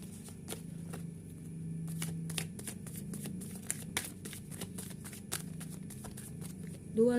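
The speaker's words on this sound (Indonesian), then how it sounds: "Dua lagi kartunya mau kita ambil." Tarot cards are handled, shuffled and drawn with quick soft slaps and rustles in an irregular rhythm, close and fairly quiet.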